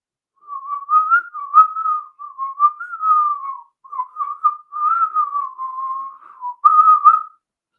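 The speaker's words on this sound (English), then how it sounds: "Suddenly, the sound of someone whistling." A person whistles a wavering, continuous melody, clear and close, in several phrases with short breaths between them and nothing else underneath.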